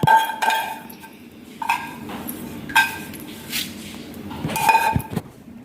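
Roasted vermicelli being moved into a vessel, with several sharp metallic clinks and clatters of dishes and utensils at irregular intervals, up close and without talk.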